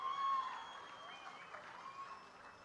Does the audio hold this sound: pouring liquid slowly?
no